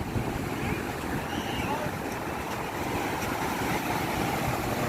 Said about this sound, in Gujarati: મોજા આવી રહ્યા છે.